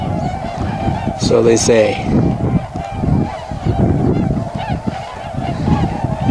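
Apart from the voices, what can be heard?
swans honking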